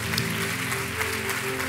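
A church congregation at a general meeting applauds, a soft, dense patter of clapping that stays even and fairly distant for a brief moment.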